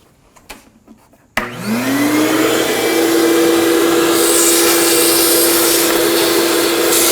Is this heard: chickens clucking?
no